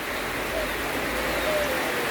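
Steady rain falls continuously outdoors in a rural setting, a broad even hiss with no gaps, moderately loud throughout, while a faint voice may murmur in the background.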